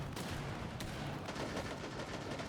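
Valorant match gunfire and explosions, a dense cacophony of overlapping shots and blasts rattling on steadily without a clear pause.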